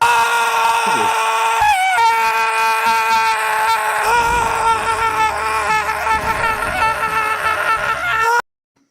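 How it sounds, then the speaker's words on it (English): A loud scream sound effect: a long, shrill, wavering shriek with a harsh edge that holds for several seconds and then cuts off abruptly into silence. "I was waiting for the scream"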